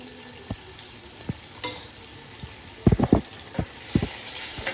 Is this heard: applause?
no